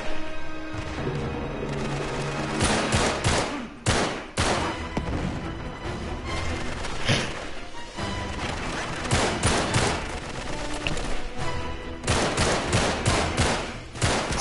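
Enemy gunfire in the video game Uncharted 3: loud, dense bursts of automatic rifle fire and single shots crackle in rapid clusters for the whole stretch, with short gaps between volleys.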